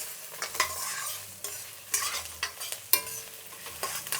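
Mysore chillies and curry leaves fry in a pan, a soft hiss of sizzle broken by repeated scraping strokes and small crackles, near and quiet.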